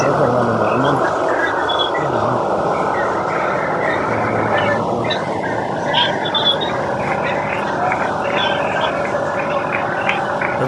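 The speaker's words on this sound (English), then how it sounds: "every couple of minutes a train goes by and nobody can hear themselves think" Train passing close by a crowded fairground, a loud continuous rumble and rattle of rail cars filling the whole stretch, with a noisy outdoor crowd mixed in.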